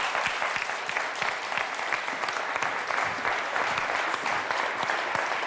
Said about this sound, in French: applaudissements quand même pour Dominique